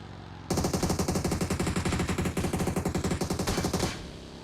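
Rapid automatic gunfire rattles in a video game as shots are fired at vehicle tires, a loud, evenly spaced burst lasting over three seconds before cutting off abruptly.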